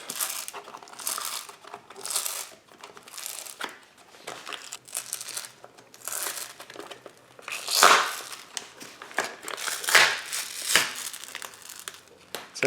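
Old grip tape peels and crinkles off a wheelchair footplate in long tearing, crackling pulls, close and fairly loud, with no talking over it.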